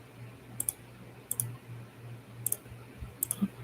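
Computer mouse clicks come in quick pairs, four crisp double-clicks spaced across a quiet room with a low background hum.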